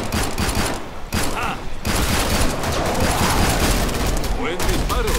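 Rapid gunfire in the video game Killing Floor 2, bursts of shots and booms crowding the whole stretch loudly, with people talking over the shooting.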